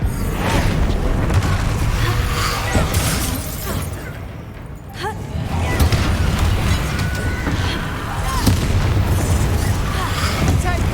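Hogwarts Legacy spell combat with explosive spells such as Confringo and Bombarda: heavy, repeated booms and bursts over a constant loud rumble of battle, with shouted voices partly audible.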